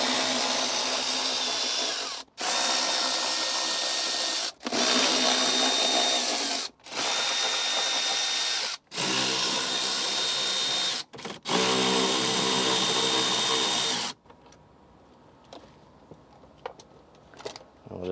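A power drill removes T20 Torx screws from a Tesla Model Y center console, running in six loud, close bursts of a few seconds each separated by short pauses, then quiet handling.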